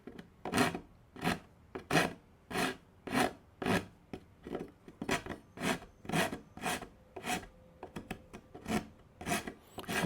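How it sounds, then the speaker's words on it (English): A hand rasp files the corner of a wooden workbench leg into a round-over, with about sixteen steady, rhythmic rasping strokes, close and clear, with no talking. "I'm going to do it with a rasp."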